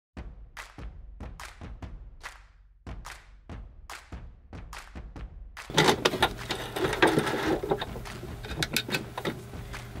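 Sewing machine stitching fabric for a skirt: a run of separate quiet thumps and clicks as the needle works, then a denser, louder whirring stretch of continuous stitching near the end.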